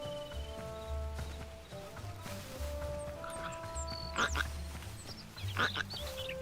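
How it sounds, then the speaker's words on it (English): Croaking of a frog in the video game Hytale, several short bursts rising over a steady game ambience with low rumbling tones and soft musical hum, fairly close and moderately loud. "There's the frog."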